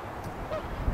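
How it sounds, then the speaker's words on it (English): A single faint goose honk rings out outdoors near a river, brief and distant against quiet background noise. "Got a goose out here"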